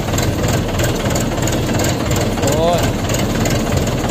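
A tractor with a tiller attached runs slowly while ploughing a village field in the Chambal region, a loud steady rumbling engine throughout, with someone speaking over it.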